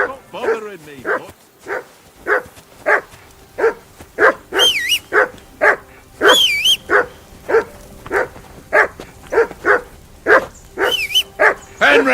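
A dog in Kingdom Come: Deliverance II barks in a rapid, steady series of sharp, loud yaps, a couple of dozen in a row, with a few higher yelps mixed in.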